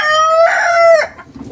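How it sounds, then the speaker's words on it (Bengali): A rooster among Sonali and local chickens lets out one loud, close crow lasting about a second. It ends abruptly, followed by faint low barnyard noise. "এখানে সোনালি মুরগির পাশাপাশি অবশ্য দেশি মুরগি করা আছে"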